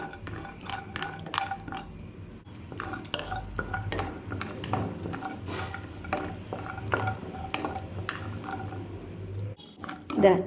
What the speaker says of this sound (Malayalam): നെയ്യിലൊന്ന് ഇതൊന്ന് വാട്ടിയെടുക്കാം ഒരു ബ്രൗൺ കളർ ആകുന്നത് വരെ ഒന്ന് വഴറ്റിയെടുക്കുക